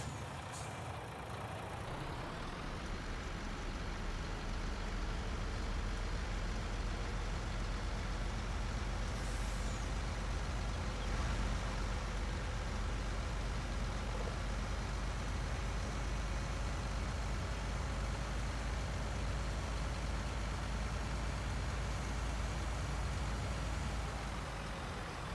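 A water truck engine in the Farming Simulator 19 video game drones steadily at close range, a constant low rumble with a brief hiss of air near the start.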